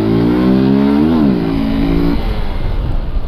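A motorcycle engine loud and close, revving up and holding a strained, rising note before settling into a rough, steady drone, with no voices.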